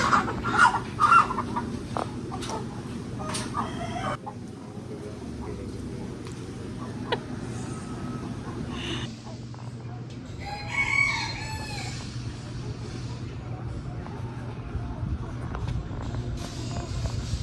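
At a poultry farm holding white chickens and ducks, chickens cluck and a rooster crows in short bursts over a steady low hum of machinery, moderately close, while people talk at times.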